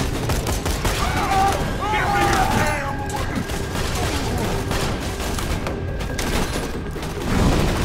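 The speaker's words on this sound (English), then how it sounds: "There's a lot of gunshots coming my way." Dense, continuous video game gunfire crackles and pops in rapid bursts, with a voice speaking over the barrage.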